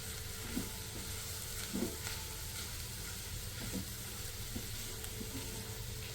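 Gram flour (besan) dry-roasting in a pan on low heat, a faint steady sizzle with occasional soft scrapes and taps of a spoon pressing out lumps, quiet and continuous.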